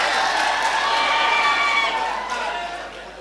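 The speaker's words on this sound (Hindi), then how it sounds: "मतलब जोरदार तालियां बजाकर इजाजत दें।" Audience at a mushaira clapping: a dense wash of applause from a crowd indoors, steady and then tapering off.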